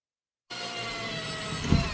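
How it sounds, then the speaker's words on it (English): A power drill bores a hole into a wall during a plant room makeover, starting abruptly after a brief silence and running as a steady, close whine with a louder bite near the end. "once you make those drill holes, they can't be undone"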